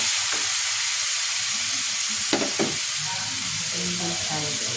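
String beans sizzle and fry in a pan with soy sauce for adobo, a loud steady hiss with a few stirring clatters and scrapes up close.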